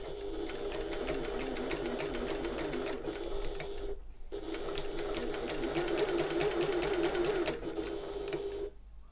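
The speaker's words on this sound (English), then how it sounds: "lift my presser foot and pivot all the way around so I can sew back down" Sewing machine stitching a shoulder bag seam: a steady close whirring drone with rapid needle ticking, briefly stopping for a pivot before running on, then falling quiet at the end.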